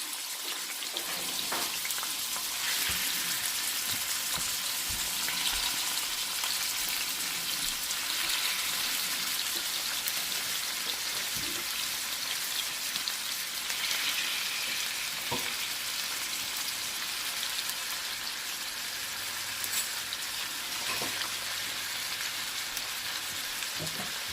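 Two packs of freshly filleted steak meat sizzle steadily in a pan for Philly subs, a dense, even frying hiss with occasional stirring clicks and scrapes throughout, no talking.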